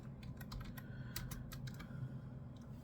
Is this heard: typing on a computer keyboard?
yes